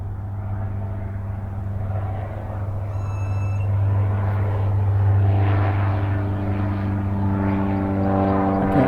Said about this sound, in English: Here comes a plane right now.